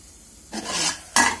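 Potato and dried fish fry in hot oil in a village kitchen, giving two short bursts of scraping and sizzling as a spatula stirs the pan, each rising sharply after a quiet pause.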